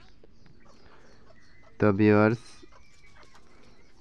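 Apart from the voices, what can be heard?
desi chickens clucking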